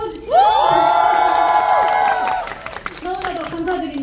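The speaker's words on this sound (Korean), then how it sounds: "그분들을 향해 박수 한번 주시죠" An audience in a cinema greets the music director and composers at a film stage greeting with cheering, whoops and shouts, sustained loud for about two seconds, then fading into scattered voices.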